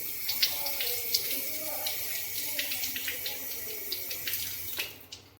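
Tap water running while washing ingredients for mirchi thecha in a home kitchen: steady splashing flow with small clinks, close and continuous, cutting off at the end, with a voice faintly underneath.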